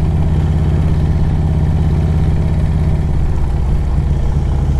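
A 2007 Harley-Davidson Road Glide with a 113 Screaming Eagle engine runs steadily and loud up close, a constant deep lumpy throb that holds even for the whole stretch with no talk over it.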